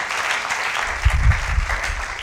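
Church congregation applauding during a French-language sermon, a brief burst of crowd clapping swelling in the middle, with a voice faintly over it.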